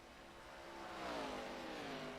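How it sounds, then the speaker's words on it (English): Chad French's race car at Pocono, its engine note rising and holding steady as it heads toward turn two, heard at a distance at moderate loudness with a sustained, slightly swelling drone. "Let's listen to Chad French's car as we head towards turn number 2."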